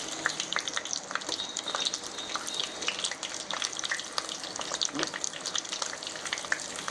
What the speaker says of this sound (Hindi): कढ़ाई में तेल भी गर्म होने लग गया था, अब मैं उसमें शिमला मिर्ची को डाल रही हूँ।